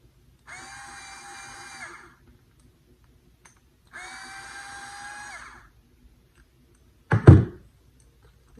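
Powered screwdriver backing screws out of a mini bike throttle housing: two even whirring bursts of about a second and a half each, separated by a pause, then a sharp clunk as a part is set down.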